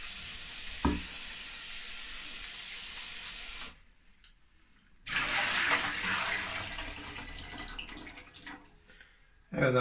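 Running tap water pours steadily over şevketi bostan greens being washed in a kitchen sink, loud and continuous with a brief pause midway before the flow resumes.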